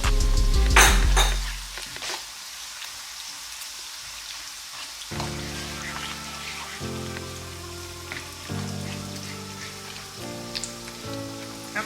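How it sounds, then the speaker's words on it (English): Tomato paste being stirred in a cooking pot while making gari jollof, a steady scraping and clinking of a utensil against metal with soft sizzling underneath, close and moderately quiet, no talking. "And you stir it together."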